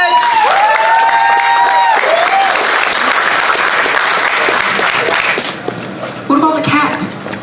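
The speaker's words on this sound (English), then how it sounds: "Give a round of applause and switch!" A live comedy improv audience bursts into loud, full applause with some whooping cheers on top; the clapping holds steady before tapering into a few scattered claps.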